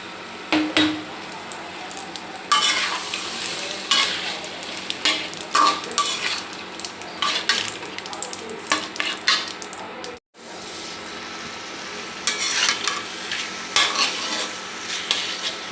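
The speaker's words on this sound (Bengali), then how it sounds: "মাংস আর ডাল দু এক মিনিট নেড়ে চেড়ে মিশিয়ে দিলাম" Broiler chicken and soaked red lentils stirred in a cooking pot, continuous scraping and clattering of a spoon against the pot with a light frying sizzle underneath, close and steady, with a brief dropout near the end.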